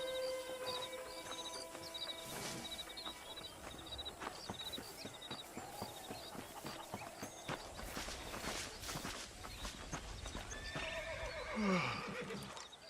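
In Red Dead Redemption, a horse neighs and whinnies over steady clip-clopping hooves, with game ambient sounds throughout and a louder whinny near the end.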